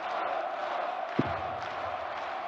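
Steady crowd roar fills a darts arena during a match at the International Darts Open in Riesa, a continuous, moderately loud hubbub with one brief thump partway through.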